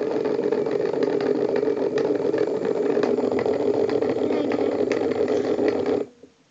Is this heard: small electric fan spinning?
yes